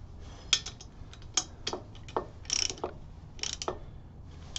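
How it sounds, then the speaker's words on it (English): A socket wrench ratchets in short bursts while seating a 95-inch big bore kit on a Harley Twin Cam engine, giving close, faint clicking pawl ticks in irregular groups over a low hum. "I'm just gonna give them a little bit of a bump with a socket wrench"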